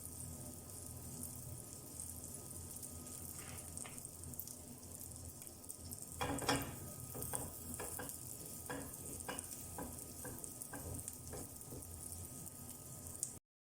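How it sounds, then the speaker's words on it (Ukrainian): Apple pancakes (fritters made with water) fry in vegetable oil in a pan over medium heat, giving a soft, steady sizzle with a few light clicks and scrapes, with no voices. "Жаримо з обох сторін на середньому вогні до золотистого кольору."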